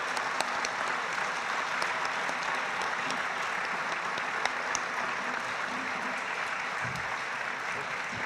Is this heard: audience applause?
yes